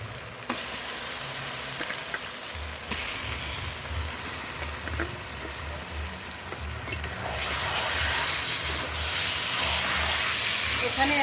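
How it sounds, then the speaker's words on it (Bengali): Mutton added to spices frying in oil in a pan, a steady loud sizzle that swells toward the end, with occasional stirring clinks and a voice faintly in the background. "ধুয়ে রাখা মাটন এবার দিয়ে দেবো"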